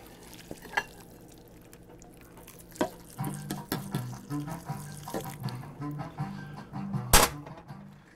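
Broth poured over instant Singapore laksa noodles in a bowl, a soft splashing and gurgling pour with small clinks, fairly quiet and close, lasting several seconds without speech.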